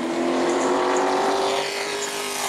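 Pro late model race car at New Smyrna on a qualifying lap, its engine a loud, steady high-revving drone held close throughout.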